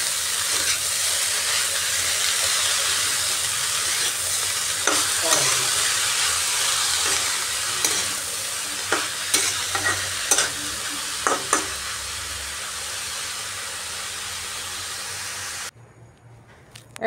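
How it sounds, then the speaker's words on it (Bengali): Red amaranth leaves frying with onion and garlic in a pan, a steady loud sizzle with stirring clatters throughout, stopping abruptly near the end. "লাল শাকটা দিয়ে একটু ভাজা ভাজা করে নিচ্ছি পেঁয়াজ রসুনের সাথে"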